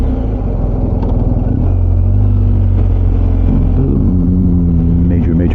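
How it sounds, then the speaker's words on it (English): Traffic on a major highway heard from a moving vehicle, a loud, constant low road-and-engine rumble close by, with slight pitch shifts as speed changes. "Major highway."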